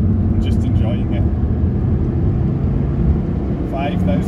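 Mid-engined, rear-wheel-drive Toyota MR2 Roadster (Mk3 Spyder) engine droning steadily from inside the car during a drive, a continuous loud low hum with brief higher whines, no clear rev spikes.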